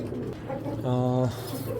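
A male racing pigeon, just released, gives a loud throaty coo with a rising, drawn-out note at the centre, surrounded by softer cooing and murmuring from other birds nearby.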